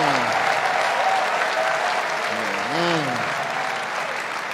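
Audience clapping in a church service fills the space with continuous broadband applause, while a voice sings or intones sustained gliding notes beneath it midway through.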